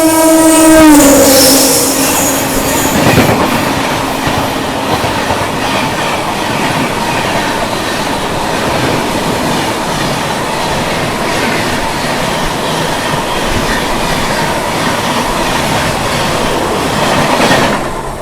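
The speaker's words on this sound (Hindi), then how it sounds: "यहाँ पर सामने से आती हुई 12302 न्यू दिल्ली हावड़ा राजधानी एक्सप्रेस" Train-side run as the 12302 New Delhi–Howrah Rajdhani Express passes, opening with a loud horn blast that falls in pitch as it goes by, then a sustained heavy rumble and clatter of passing coaches.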